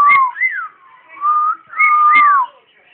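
A pet bird whistles loudly and close by, several clear, pure tones rising and falling in a warbling phrase, repeated with short pauses between.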